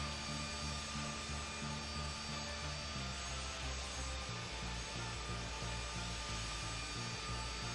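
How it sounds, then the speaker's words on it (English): Aircraft taking off in Infinite Flight, a steady loud engine roar with a droning hum that shifts pitch partway through, continuous throughout with no talking. "Very nice takeoff"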